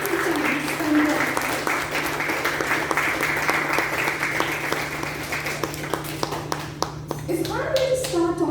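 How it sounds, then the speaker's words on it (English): Audience applause fills a ceremony hall at a youth leadership program grand finale, steady dense clapping for several seconds before thinning out as voices come in near the end. "A big round of applause for the active time spent there."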